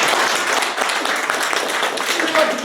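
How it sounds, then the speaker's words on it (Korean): Lecture audience applauding, a dense steady patter of many hands clapping together at moderate loudness, sustained without pause. "박수 한번 쳐야 됩니다."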